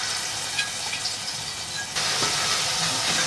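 Ginger-chili-garlic paste sautéing in hot oil with cumin seeds for Gujarati lasaniya bhungla batata, a steady sizzling hiss throughout that grows a little louder and denser partway through.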